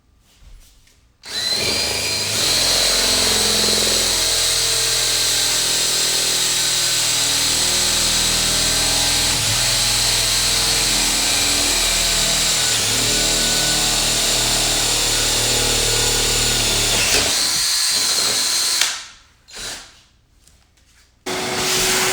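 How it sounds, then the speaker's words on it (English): A power drill fitted with a spade bit bores down through laminate flooring, a steady loud whirring grind lasting about seventeen seconds before stopping, followed by a few brief clunks. "But I'm gonna use this spade bit. I'm gonna drill right down"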